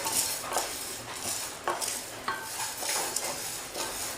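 Split chickpeas and urad dal are dry-roasted in a pan, a spoon scraping and clinking against the metal in an irregular stirring rhythm, close up and alone.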